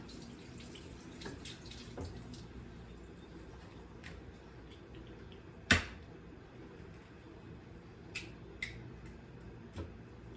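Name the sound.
rinsing an egg under running tap water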